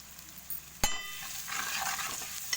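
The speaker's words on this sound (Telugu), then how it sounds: "నూనెలో మంచిగా గోలినాక చింతపులుసు పోసుకున్నాము" Tamarind juice hits hot oil in a pan for a spicy fish curry, raising a soft broad sizzle that swells midway and holds steady, with a sharp clank near the start and no talking.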